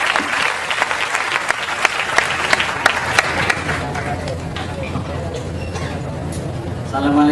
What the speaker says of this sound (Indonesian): Tepuk tangan untuk Bapak Busro.